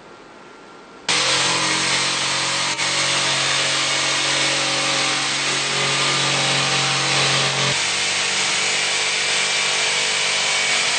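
Power saw cutting steadily through an onyx shower panel around a window opening, starting abruptly after a second of quieter room noise and running loud and close for about ten seconds, with a slight shift in pitch near the end.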